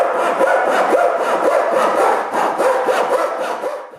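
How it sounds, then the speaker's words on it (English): A hand saw cuts through plywood strips in quick, rhythmic back-and-forth strokes, close and loud with no one talking. "So I cut the ones which need to be cut."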